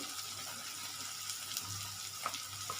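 Chopped tomatoes hitting a hot pan for egg akuri, a faint, steady sizzle with a few soft clicks and stirs.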